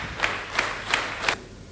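Four evenly spaced bursts of clapping from a small group at an agglomeration council meeting tribute, moderately loud with faint room murmur between them.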